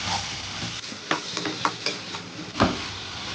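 Chicken sautéing with turmeric in a pan: a steady close sizzle with repeated scraping strokes of a spoon against the pan, about half a dozen distinct stirs.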